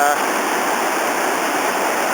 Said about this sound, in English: this is the approach to pretty much the last major chute, last major rapid on Robson Creek